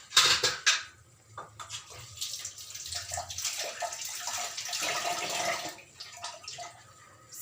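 Butter simmering into ghee in a pot over low heat, giving a steady wash of soft bubbling and crackling with a few louder pops near the start, continuous and close.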